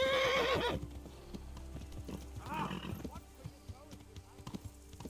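Horse hooves and a loud neigh in the medieval video game Kingdom Come Deliverance, the whinny opening the clip before quieter hoofbeats and movement sounds continue.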